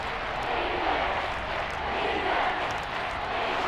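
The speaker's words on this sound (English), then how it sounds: "Plenty of shouts from this crowd as they watch the replay." A stadium crowd roars and shouts in a broad, steady wash during a Madden 23 football game between the Broncos and Chiefs, rising and falling slightly throughout.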